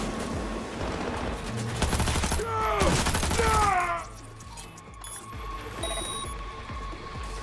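Rapid bursts of power machine gun fire in the video game Cyberpunk 2077, dense and loud for several seconds, then stopping and leaving quieter game ambience with faint electronic tones; a voice briefly speaks over the gunfire.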